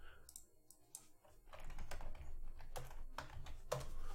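Keystrokes on a computer keyboard, typed while coding a hit struct in a game engine, come as an uneven run of light clicks under a steady background bed, growing busier in the second half.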